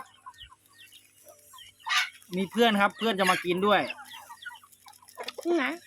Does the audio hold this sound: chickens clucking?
yes